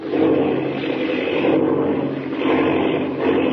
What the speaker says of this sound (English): the plane. Spinning. It's out of control.